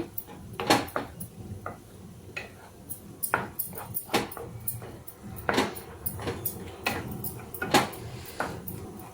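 A spoon scrapes and clinks against a pan while onion paste is stirred into spinach curry, giving repeated sharp metallic knocks and scrapes in an uneven rhythm, close and fairly clear.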